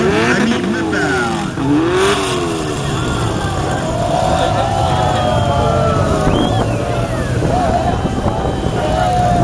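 Two-litre single-seater race cars roar past on a circuit, engines revving and pitching through gears in a dense, continuous loud wash, with a commentator's voice running over the top.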